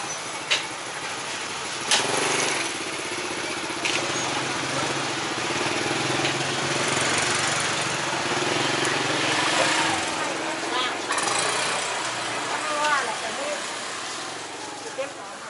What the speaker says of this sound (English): Dodge the motorbikes.